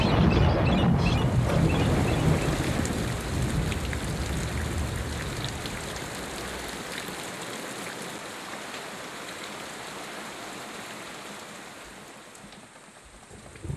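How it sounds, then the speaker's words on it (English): Heavy overnight rainstorm in the Serengeti pours down steadily, a dense hiss of drops on surfaces that gradually eases and softens toward the end. "A storm brews up overnight."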